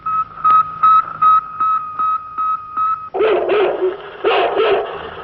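A dog barks loudly several times in quick succession, following a run of short, evenly spaced electronic beeps.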